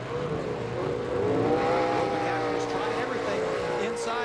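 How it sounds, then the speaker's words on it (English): Off-road race trucks roar at a dirt track in Crandon, a sustained engine drone rising and falling in pitch as they race past, while a commentator talks over it. "Chad Horde hammered down that long back straightaway right now in that number 9"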